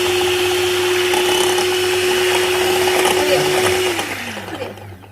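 Electric mixer beating cupcake batter in a bowl, a loud steady whir for several seconds that winds down and fades toward the end.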